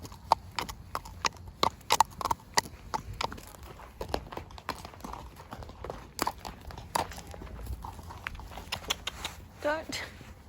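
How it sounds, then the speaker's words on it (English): Horse hooves clip-clop at a weekend eventing competition in Australia, a run of close, irregular hoof strikes with people talking nearby. "And there's Haley's horse, Luke, and her mum's horse"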